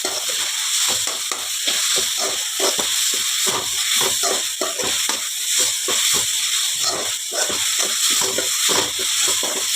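A spoon stirs tomato gojju frying with chilli powder in a pan, steady sizzling hiss broken by regular scraping strokes, close and continuous with no talking.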